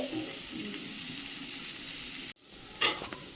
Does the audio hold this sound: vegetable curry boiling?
yes